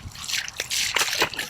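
Hand bilge pump emptying water from a small fishing boat, a close run of wet splashing and sloshing spurts with irregular gurgling bursts, no talk.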